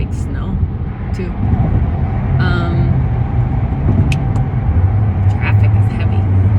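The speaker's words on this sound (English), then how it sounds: "Traffic is heavy." Heavy road traffic rumbles steadily on a freezing, windy day, with cars passing close by in a continuous low roar throughout, and a voice talks over it.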